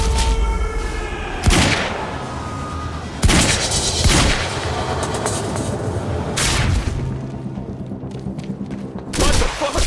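Gunfire in the video game Quantum Break: several loud bursts of shots and booms break out over a steady din of game sound, with heavy impacts near the start, in the middle and at the end.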